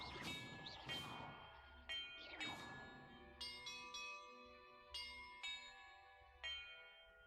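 Bells in the video game Hogwarts Legacy ring in a sequence of clear struck tones, several swelling strokes early then a steady series of about six distinct rings with lingering resonance, fairly quiet.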